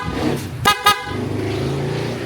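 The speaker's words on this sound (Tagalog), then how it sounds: "Tapos busina." Two short PIAA motorcycle horn toots on a Honda ADV 160 scooter in quick succession over a steady idling engine, close by and fairly loud.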